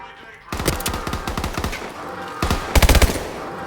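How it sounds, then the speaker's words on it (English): Submachine gun fire in Call of Duty: Advanced Warfare cracks out in rapid continuous bursts, close and loud, with a brief pause and then a sharper, heavier volley near the end. "SMG at your line"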